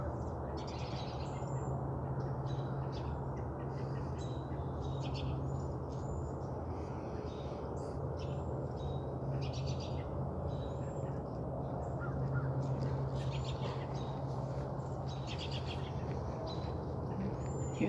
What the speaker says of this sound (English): Hear the robins and the cardinals squawking.